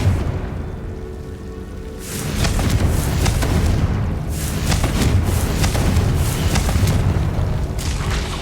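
A Confringo blasting spell explodes in the Hogwarts Legacy video game, a heavy booming burst that starts about two seconds in and carries on as a loud, rumbling series of impacts to the end.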